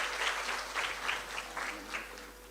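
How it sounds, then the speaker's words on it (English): Audience at a university humanities and education undergraduate orientation clapping in a modest, fairly close round of applause with uneven bursts that taper off. "let's give her a round of applause"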